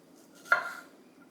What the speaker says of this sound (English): let's get started on the chopping. Okay, I'm just going to cut the green off